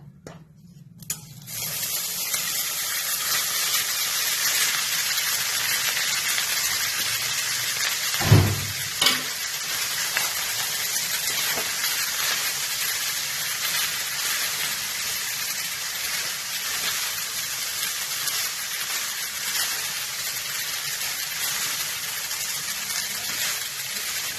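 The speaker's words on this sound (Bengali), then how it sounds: "এই যে এবার ভাতটা ঢেলে দেবো," Cooked rice tips into a hot pan of vegetables and cashews for fried rice, bursting into a loud steady sizzle with a thump as it lands, then stirred with occasional scraping; no speech.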